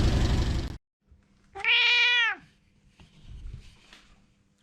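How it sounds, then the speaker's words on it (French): A single drawn-out, complaining cat meow, close and clear, rising and falling over about a second, with quiet rustling and a low hum afterward. "Tout de suite avec le chat qui râle."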